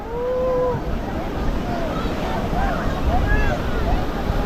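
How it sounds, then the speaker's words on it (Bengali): A boat sets off on the sea at Digha's Udaipur beach, with steady engine and water rush, wind buffeting and continuous whooshing, while people talk and cheer in the background. "তো আমাদের বোট এখন ছেড়ে দিয়েছে, আমাদের এখন নিয়ে যাচ্ছে।"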